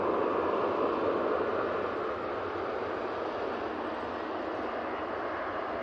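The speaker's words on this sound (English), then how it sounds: "We have this EasyJet" EasyJet Airbus A320-200 airliner departing Manchester Airport for Amsterdam Schiphol, a steady broadband jet engine roar that holds loud and even, easing slightly partway through, with no talk.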